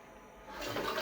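A toilet flushes with blue water from a Scrubbing Bubbles drop-in tank tablet, a close rushing swell of water that builds quickly from a quiet hiss into a full gurgling flow.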